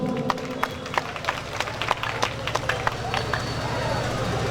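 An audience claps at a stage show during a folk-music festival honouring ceremony: dense, loud, steady clapping from a large crowd that continues throughout.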